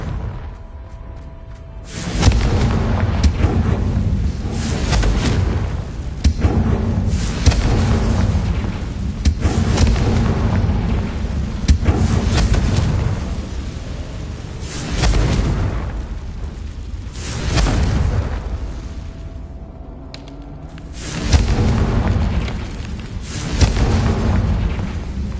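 Repeated Confringo blasting-spell explosions in a video game, heavy booming blasts arriving every few seconds with deep rumbling tails, loud and close, with no talking.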